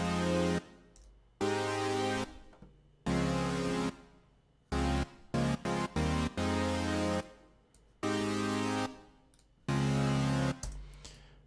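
Detuned supersaw synth chord stacks in a melodic dubstep style, played as bright, sustained blocks that start and stop in a choppy rhythm with short gaps, the last chord trailing into a faint tail.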